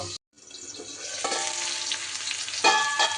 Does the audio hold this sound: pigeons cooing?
no